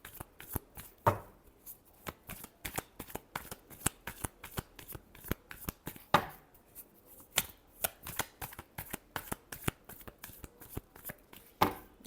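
A deck of tarot cards is shuffled close up in a quiet room, a rapid run of crisp, papery riffling snaps in quick, fairly regular succession with occasional louder flicks, no voices.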